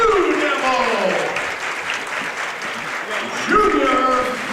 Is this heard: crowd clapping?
yes